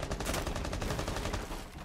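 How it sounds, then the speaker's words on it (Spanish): Rapid bursts of automatic gunfire from the Rainbow Six Siege video game, Phantom Sight season, fired as dense overlapping volleys throughout the short stretch at steady loudness, with no voices. "no sé exactamente hacia dónde iban los tiros"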